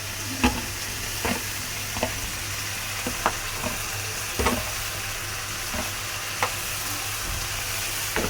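Fried potato and pumpkin cooking down with tomato in a pan, a constant loud sizzle broken by sharp periodic scrapes and knocks of a spatula stirring, with no voices.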